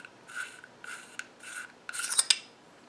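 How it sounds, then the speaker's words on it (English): The front end cap of a Gemtech Lunar-45 suppressor being unscrewed: three even, slow metallic rasping twists, then a busier scraping and clicking burst, close and quiet with no talk. "And then unscrewing the front end cap,"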